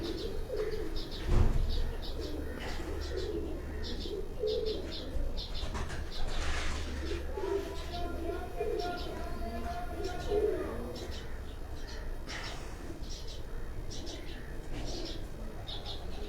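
Pigeons coo softly and repeatedly nearby on a rooftop in Jalalpur Bhattian, with chirping birds and a faint voice in the background.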